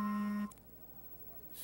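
A phone lets out one steady, fairly loud electronic beep lasting about half a second, then cuts off abruptly, leaving only quiet room background during a craps dice-throwing live stream.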